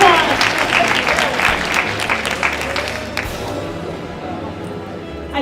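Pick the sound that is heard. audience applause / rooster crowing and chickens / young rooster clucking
audience applause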